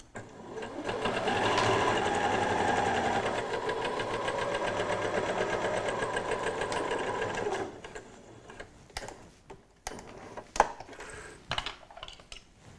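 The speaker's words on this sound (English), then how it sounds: "So just forward and back to lock the stitches and then sew the seam." A sewing machine runs continuously for about eight seconds, stitching a cushion seam, then gives way to brief clicks and handling noises. No one speaks.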